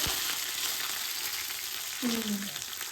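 Curry leaves, crushed garlic and cumin hit hot oil for tempering, giving a loud, steady hiss of sizzling with a brief squealing tone near the end.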